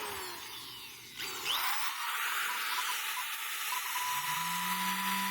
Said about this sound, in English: This is a really strong drill.